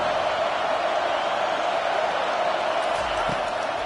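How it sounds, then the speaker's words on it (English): A packed college football stadium crowd roars steadily for a defensive red zone stop in a USC versus Texas game, a dense, continuous wash of noise with no breaks. "here comes the noise. This crowd is trying to inspire this defense to make a big red zone stop."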